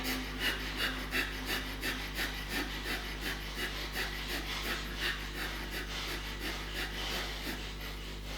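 Heavy rhythmic breathing during a yoga exercise, steady in-and-out breaths repeating about twice a second, close and moderately loud over a constant low hum.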